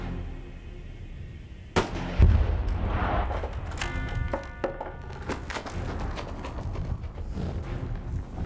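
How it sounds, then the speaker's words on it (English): A tannerite exploding target goes off when shot, giving one sudden loud boom followed by a long rumbling echo that rolls on for several seconds outdoors. "It's the #1 exploding target there when you think about it."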